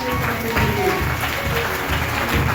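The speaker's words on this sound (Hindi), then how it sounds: "ताली बजाओ जोरदार" A church congregation claps loudly and continuously during a sermon, a dense, steady wash of applause with no pauses.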